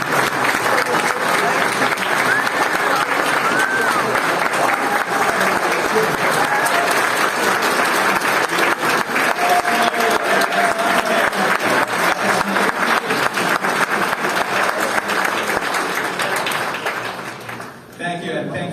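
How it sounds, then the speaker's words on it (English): A large audience gives a long round of applause at the Jerusalem Prayer Breakfast in New York, dense, loud and continuous clapping that holds steady before tapering off near the end. "A round of applause and welcome to the Jerusalem Prayer Breakfast"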